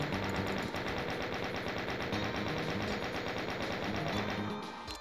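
Chaingun fire in Doom 2 on a snowy canyon level, a loud, dense, continuous stream of rapid rattling shots lasting several seconds before tapering off at the end.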